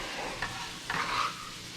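White parts of scallions hit a hot pan of garlic noodles, a short hiss and stirring scrape rising over steady background sizzle, close and moderate in volume.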